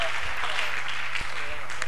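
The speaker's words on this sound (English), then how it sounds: "Clap for Jesus." A church congregation clapping together during a praise moment, a dense, continuous wash of hands filling the hall, fairly loud and steady for a couple of seconds with a low hum underneath.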